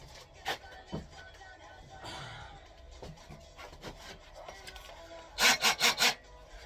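An oscillating multi-tool cuts through a pipe held by a Jubilee clip, with scattered short rasping saw strokes, light rubbing and handling knocks, then a quick burst of four loud buzzing cuts near the end.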